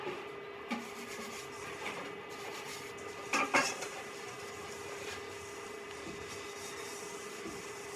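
Razor shaving a head during a haircut, a steady close buzzing drone with a few brief scraping bursts, alone with no talking.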